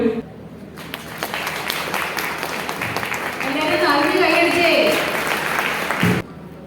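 An audience applauds steadily at a college alumni gathering, the sustained clapping swelling in the middle and ending abruptly, heard close and fairly loud with little else over it.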